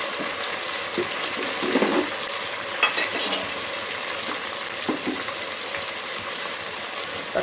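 Small tomatoes sautéing with salt in a pan for Chettinad rice-and-dal dish give a steady, close sizzle with occasional stirring scrapes throughout, no voices.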